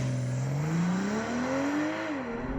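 A BMW 4 Series Gran Coupe launches hard from a standstill, its engine note climbing steadily in pitch as it accelerates, heard from inside at moderate level with no talking.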